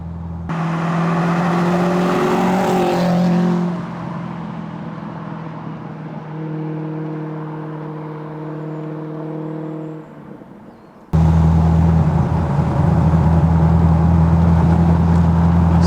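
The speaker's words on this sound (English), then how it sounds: "I'm just going to very gently just breathe on the accelerator pedal, and the engine instantly is responding, picking up exactly what I'm telling it to do." A Westfield Seight kit car with a 3.9 litre V8 burbles and rises in pitch under gentle throttle, steadies at a lower drone, drops away, then returns with a loud, close, rumbling roar.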